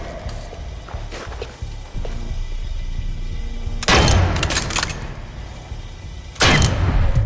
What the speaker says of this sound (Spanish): Quiero probar el rifle.